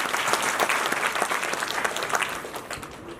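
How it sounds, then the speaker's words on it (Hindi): Audience applause at an award ceremony held in a Guru Ravidas hall, a dense, steady clapping from a large crowd that stays loud throughout and fades slightly toward the end. "तो इसीलिए सशक्त भीम समाज के लिए भी एक बार जोरदार तालियां बजती है।"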